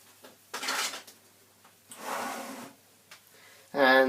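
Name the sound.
setting down a whisk and grabbing a spatula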